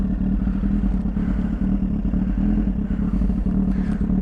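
Spicy110 motorcycle riding along with a steady low engine drone and some rattling clatter, continuous and fairly loud throughout, with no talking.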